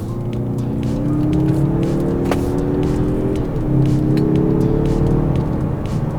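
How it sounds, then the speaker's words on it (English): A 2022/2023 Mazda3 2.5 Turbo with a six-speed automatic pulls hard, its engine and exhaust droning loud and close with a steadily rising pitch that dips once at a shift and then climbs again. "The engine sounds nice, the exhaust sounds pretty good."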